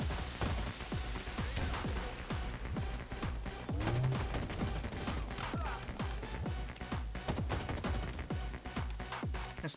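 Halo Infinite multiplayer firefight with dense, rapid gunfire bursts and impacts crowding together, fairly quiet in the mix and continuous across the whole stretch.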